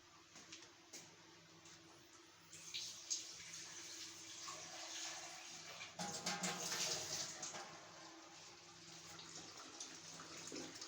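Water runs and splashes into a cooking pot while minced meat and potato curry is being made, a steady pour that gets louder partway through, with faint background hum.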